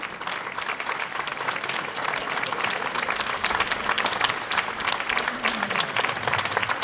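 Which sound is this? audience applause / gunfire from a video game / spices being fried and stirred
audience applause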